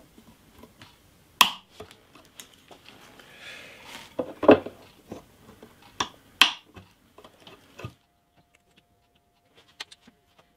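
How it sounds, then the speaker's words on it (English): A few sharp, isolated snips as fret wire ends are clipped off a vintage parlour guitar under repair, close and crisp, with small tapping and handling clicks between cuts and a quiet stretch near the end. "And then I just snip the ends off."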